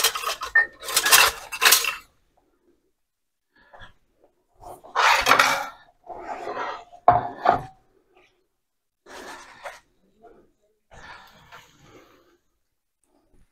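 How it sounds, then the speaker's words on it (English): A metal slotted spoon clinks and scrapes inside a pot of colcannon, coming in several separate bursts of clattering with quiet gaps between them, close and fairly loud. "I'm going to use a slotted spoon."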